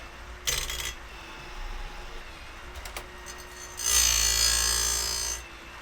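Woodland Mills RCS28pro chain sharpener grinding a chainsaw tooth: a brief gritty touch early on, then one loud, sustained abrasive grind of nearly two seconds over the sharpener's steady low motor hum.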